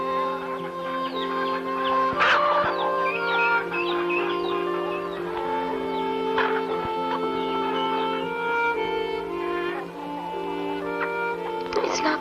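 Chickens cluck and squawk in a farmyard, several birds overlapping in short bursts with a sharper cry now and then, all over a steady background hum and no speech.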